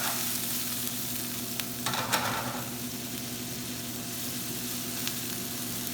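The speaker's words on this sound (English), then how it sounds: "I'm going to add a little white wine. And start to let that deglaze." White wine poured into a hot pan of onions and garlic for risotto, a brief rush of hissing sizzle that fades back into a steady low frying hum, close by.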